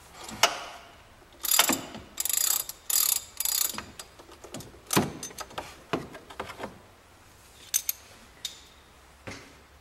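Metal mechanical clicks and ratcheting bursts from a 1/2 inch drive ratchet breaking loose the overrunning alternator pulley on an Audi, close and irregular, with short bursts and pauses and no talk.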